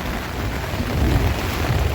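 Heavy rain pours in a thunderstorm during a family road trip, with water dripping off the roof's edge. Dense, steady wash of rain with low rumbling thunder underneath, continuous and close, with no voices.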